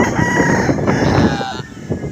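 A rooster crows loudly nearby, a drawn-out call with chickens clucking around it.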